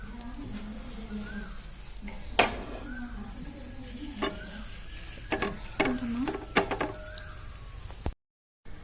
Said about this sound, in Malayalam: അപ്പൊ ഞാനിതൊരു നെയ്യ് തടവിയ ഒരു പാത്രത്തിലേക്ക് ഇടുകയാണ്.